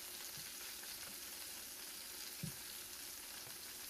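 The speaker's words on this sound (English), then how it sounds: "we're going to let it just simmer on slow and do its thing" Cube steak and gravy simmering slowly in a pan, a quiet steady bubbling sizzle with a soft pop or two, heard close and alone.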